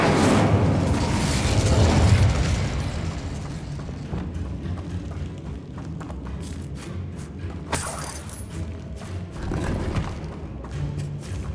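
An Incendio fire spell cast in Hogwarts Legacy bursts out as a loud rushing whoosh and roar of flame at the start, then fades into rumbling game effects and scattered crackles and impacts.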